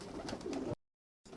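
Pure-breed pigeons cooing softly in a loft in Bamako, a low murmuring coo running for under a second before a gap of silence, then resuming faintly.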